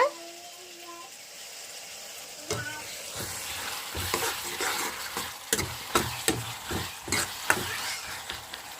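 Chopped tomatoes frying in a pan while being stirred, a steady sizzle broken by a series of scraping stirs and clinks. A few faint voice sounds come at the start before the stirring begins.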